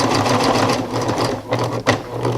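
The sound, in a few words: sewing machine stitching heavy fabric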